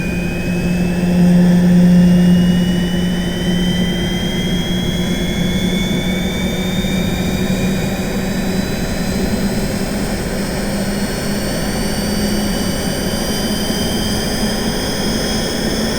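Synthesized jet engine starting up from a turbine sound plugin: loud steady roar with a whine that climbs slowly in pitch over about sixteen seconds, with no voices.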